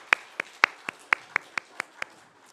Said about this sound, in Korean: 우리 열심히 일하시라는 뜻으로 한번 박수로 격려해 주시면 감사하겠습니다.